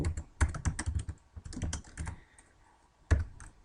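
Quick bursts of keystrokes clatter on a computer keyboard, close and crisp, with short pauses between runs of typing and a final few taps.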